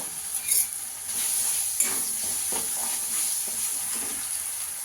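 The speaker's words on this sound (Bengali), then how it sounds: "এই যে মশলাটা আমি বেটে নিয়েছি, মশলাটাকে একটু কষিয়ে নেব" Ground spice paste cooks in two spoons of oil in a kadai, giving a steady sizzle with soft stirring scrapes and light clinks, moderately loud and close, with no talking.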